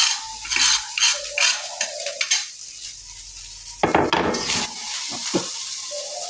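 White tiwul rice is stirred and fried in a pan, with repeated scraping and clattering strokes of a utensil against the pan over a low sizzle, close and loud in uneven bursts.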